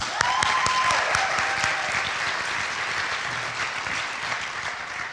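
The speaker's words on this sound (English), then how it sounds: "Let's give another round of applause" Audience clapping at a high school drama senior showcase, a full, sustained round of applause that starts strong and eases slightly while staying even to the end.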